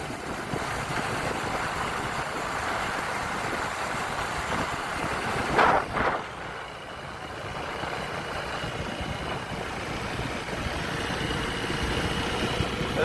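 A motorcycle engine drones steadily while riding to Guwahati, with a brief louder burst of noise midway before the steady hum resumes.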